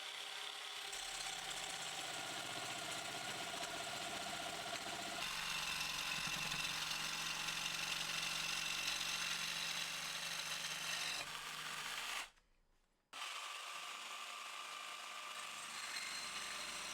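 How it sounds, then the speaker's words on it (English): A variable-speed jigsaw fitted with a metal-cutting blade, turned down to low speed, cuts through metal for homemade shelf brackets: a steady, close grinding rasp that runs almost continuously, with one brief pause before resuming. "I'm going to start by trying the jigsaw, because I've got some metal cutting blades and this jigsaw has a variable speed, so I can turn the speed right down"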